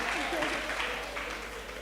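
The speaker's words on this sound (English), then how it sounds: "A huge round of applause for Sizibu." An audience at a women's economic empowerment engagement applauds steadily for about two seconds, a dense, fairly soft wash of clapping with talk mixed in.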